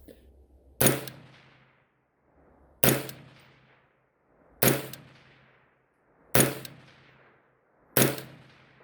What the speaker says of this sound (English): I'm gonna try to shoot for the bottom right target.